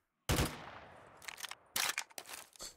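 AK-47 fire in Black Ops 3 Custom Zombies on a Minecraft-style map, a sharp opening shot followed by several short bursts of rapid gunfire, fairly faint overall with gaps between volleys.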